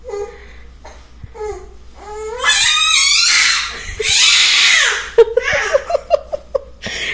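An angry baby girl screams and babbles indoors, with shrill rising wails, long loud shrieks and choppy broken cries close to the microphone.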